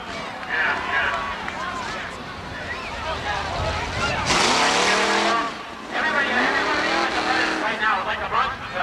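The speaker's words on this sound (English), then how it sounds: "The Pontiac is going, and Richie's still looking for the right sp" Race cars roar around the oval at Seekonk Speedway on demo day, among them a Pontiac, with engines surging and tires squealing under continuous announcer commentary.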